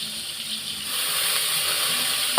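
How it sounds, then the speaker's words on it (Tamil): Running tap water splashes over a bunch of curry leaves being rinsed in a kitchen sink, a steady close wash that swells louder midway and ends with a brief clatter. "கருவேப்பிலை கொஞ்சம் கழுவி போட்டுக்கலாமா?"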